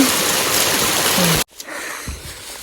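Water rushing down a hillside stream or small waterfall, a steady broadband wash that is loud up close, then cuts to a quieter, more distant flow with a few splashes.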